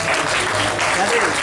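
A crowd applauds at a quinceañera party, a dense burst of clapping loud and close, with voices mixed in beneath it.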